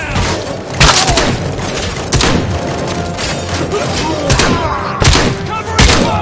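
Gunfire and heavy explosive booms from a Robocop film action scene, repeated loud bursts every second or so over a dense, continuous roar of battle noise, with shouted voices mixed in.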